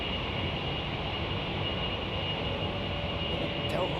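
Jet airliner departing London Heathrow Airport, a steady, broad roar of jet engines at moderate distance, holding level throughout.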